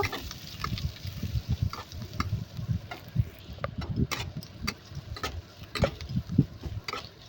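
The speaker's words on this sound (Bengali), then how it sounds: "এবার কুচি করে রাখা পেঁয়াজটা দিয়ে দেব পেঁয়াজটা হালকা করে ভাজা ভাজা করে নেব" Chopped onions fry in hot oil tempered with whole cumin and whole garam masala for an egg curry, giving a steady close sizzle with scattered crackles and light utensil ticks throughout, with no voices.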